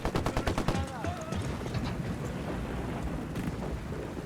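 Rapid bursts of automatic gunfire in Ghost Recon Wildlands, a quick run of sharp shots at first giving way to a rumbling, crackling wash of combat noise, with a brief voice over it.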